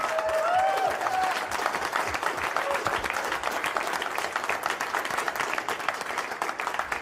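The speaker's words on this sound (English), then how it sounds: "let's get a big round of applause for our runner-up" Applause breaking out for the runner-up at the end of a poker main event in Monte Carlo, a crowd clapping dense and steady, with a brief voice near the start.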